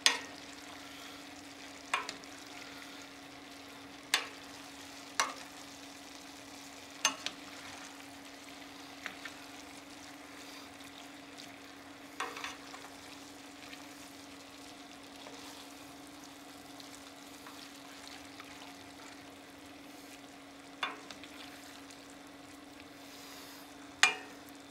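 Minced meat and macaroni fry in a pan with a low, steady sizzle and a constant hum beneath, while occasional sharp spatula clicks mark the stirring at irregular intervals; nobody speaks.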